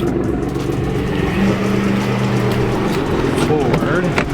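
A truck's engine runs at a low, steady rumble as it is moved forward a little during work on an R34 GTR bumper, with people talking nearby.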